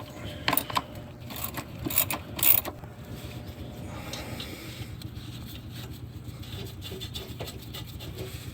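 Timing cover bolts on a 2011-2015 Chevy Cruze 1.8L are snugged up with a hand tool, making a few close, quick metallic clicks and ratchet-like clatters early on before settling into quiet background noise.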